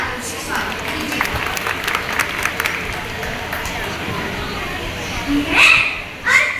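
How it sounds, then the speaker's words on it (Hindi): A school audience at a Mother's Day celebration applauds to welcome a performer, a broad crackling wash of clapping mixed with children's chatter and crowd babble that swells briefly near the end. "जोरदार तालियों से स्वागत कीजिए।"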